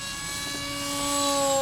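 Foam board RC plane, the Foam Fighter Bird of Prey, flying under electric motor power: a steady high whine with strong tonal harmonics, rising slightly in loudness and pitch as it passes near and continuous throughout.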